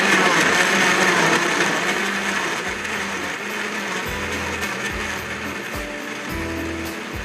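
A Super Asia blender grinding tomatoes, a loud continuous whirring motor with a rough, grinding texture, steady for several seconds with slight drops in intensity and no talking over it.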